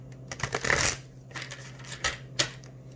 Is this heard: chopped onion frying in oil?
no